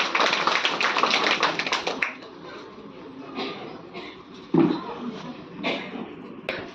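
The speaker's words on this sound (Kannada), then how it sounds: "ಮತ್ತೊಮ್ಮೆ ಅವರಿಗೆ ಜೋರಾದ ಪ್ರೀತಿಯ ಚಪ್ಪಾಳೆ" A hall audience applauding the chief guest at a Women's Day event, a burst of dense clapping in the opening seconds that tapers into scattered claps and taps, with voices murmuring.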